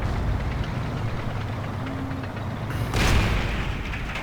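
Dull, heavy booms from Panzer IV tank shells hitting and exploding in the video game Forgotten Hope 2 rumble under constant low battlefield noise, with a sharper, louder impact near the end.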